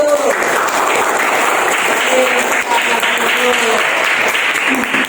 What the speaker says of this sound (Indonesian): kita tepuk tangan untuk kelompok 1